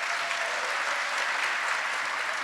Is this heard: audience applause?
yes